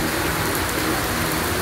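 Heavy rain pours down steadily on a makeshift shanty in the mountains, a dense, loud, unbroken hiss of drops with no talk.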